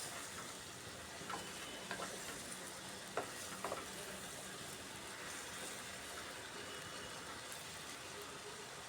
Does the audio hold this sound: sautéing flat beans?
yes